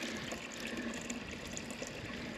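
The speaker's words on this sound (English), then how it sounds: "I'm adding warm water." Warm water runs steadily from a garden hose, a soft continuous splashing rush at moderate distance, with no talking.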